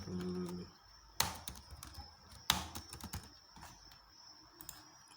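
Quiet keystrokes on a computer keyboard, with a few sharper, louder key clicks standing out over a faint, steady background hum.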